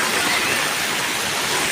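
Heavy monsoon rain falls in Nalasopara, Vasai, Palghar, a steady, loud, broadband wash of water noise without pause or voices.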